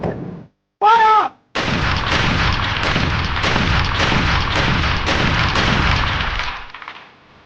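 Soldiers fire rifles in a sustained burst on a firing range, a dense loud rattle of close gunshots lasting several seconds after a brief shouted command, then fading out.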